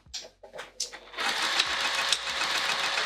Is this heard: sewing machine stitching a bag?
yes